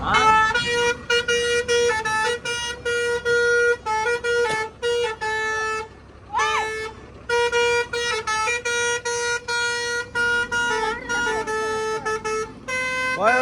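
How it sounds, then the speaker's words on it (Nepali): A car horn honks over and over, loud and close, in long and short blasts with brief gaps between them. "कत्रो हर्न बजाएको त"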